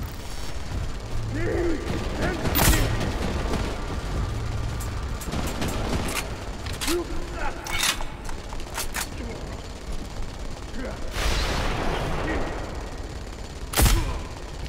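Bursts of automatic gunfire from combat robots in Deus Ex: Mankind Divided, several sharp volleys scattered over a steady game backdrop, with a few louder close shots standing out.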